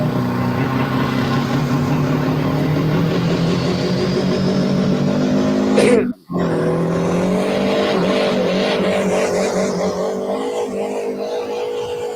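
A pulling vehicle's engine roars loud and close under throttle at a live pulling event, rising and pulsing with the throttle being pedaled, briefly cutting out before revving again over faint crowd noise.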